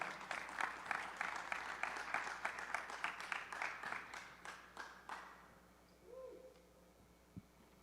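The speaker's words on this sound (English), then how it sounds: "Let's have a round of applause for Nathan Kinsella." Applause from the audience at a high school athletics signing day ceremony, a steady run of clapping that thins out and fades after about five seconds, leaving quiet room noise and a few faint stray sounds.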